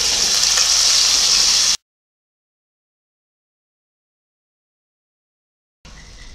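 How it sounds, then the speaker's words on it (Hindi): Chickpeas (chole) with spices sizzle steadily in a hot pan up close, cutting off into silence, then resuming briefly at the end. "अब हम इसमें सारे छोले मिक्स कर देंगे।"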